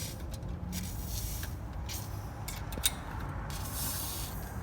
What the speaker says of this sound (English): I'll probably spray a little bit down in here as well